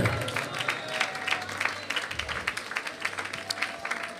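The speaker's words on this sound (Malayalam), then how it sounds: "കുറച്ചു പേരെ കൈയടിച്ചല്ലോ" An audience at a Malayalam Christian sermon claps in a steady, fairly close burst of applause lasting several seconds, with a faint voice or crowd murmur underneath.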